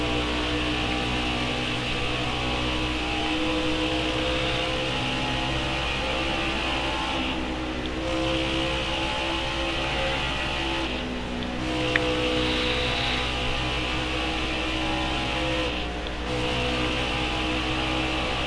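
A steady, loud race car engine drone from a NASCAR racing game, holding a continuous high-pitched whine throughout, with a few brief swells as nearby cars pass.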